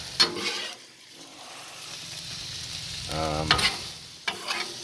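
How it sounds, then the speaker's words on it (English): Scrambled eggs cook on a Blackstone griddle alongside potatoes and sausage links, giving a soft steady sizzle broken by a few sharp spatula scrapes and clanks. "Let them just start cooking up. Scrambled eggs, man, scrambled eggs."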